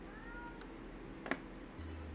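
A house cat gives one faint, short meow near the start, over a steady low background hum, followed by a brief click.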